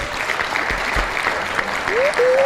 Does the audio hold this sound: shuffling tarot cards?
no